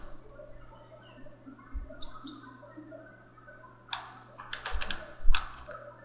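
Computer keyboard keys pressed during Unity 3D game development, a few isolated clicks followed by a quick burst of typing near the end, close and clear over a steady low hum.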